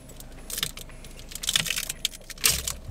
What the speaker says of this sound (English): The car key in my pocket.